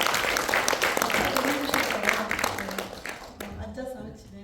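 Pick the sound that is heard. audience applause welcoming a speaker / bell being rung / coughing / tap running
audience applause welcoming a speaker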